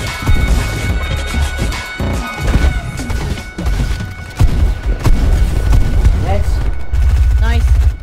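Rapid bursts of video game gunfire crack through a busy mix, with loud impacts and a final flurry of shots near the end, while excited voices talk and shout over the action.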